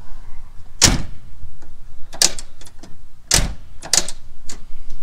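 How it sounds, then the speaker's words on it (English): The passenger door of a 1979 Mustang coupe is shut repeatedly, giving a handful of sharp, close metallic thuds and clunks separated by short quiet gaps. "So this door shuts better than the driver door."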